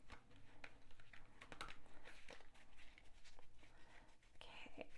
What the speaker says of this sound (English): These cards are really hard to shuffle the normal way, so they're very thick and stiff, so I'm just sort of doing my own type of shuffling with them.